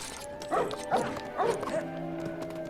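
A small dog in the Lego Harry Potter video game barks several times in quick succession, short yips rising over a steady background music drone.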